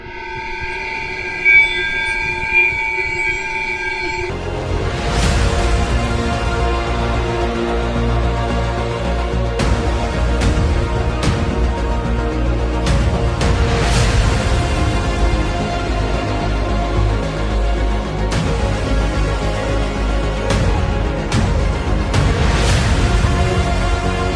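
A freight train in Mauritania, heard from atop a wagon: a sustained horn-like tone gives way to a loud, close rumble of rolling cars with sharp metallic clanks and knocks scattered throughout, and no voices.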